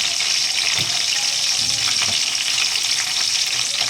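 Tapa frying in a pan, a steady close sizzle and spatter with soft stirring knocks, continuous throughout with no talk.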